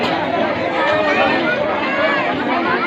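A dense crowd murmurs at a village Jagannath Rath Yatra festival in Nunpani, with steady, close babble of many overlapping voices and no single voice standing out.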